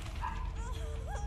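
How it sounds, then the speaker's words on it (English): Several pet dogs bark and yip in the background, faint and intermittent beneath ongoing talk. "Sorry for my dogs barking in the background."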